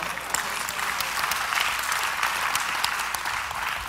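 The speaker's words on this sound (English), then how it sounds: "Clap before I go." A church congregation claps during a sermon, sustained dense applause from a large audience holding steady throughout with no talking over it.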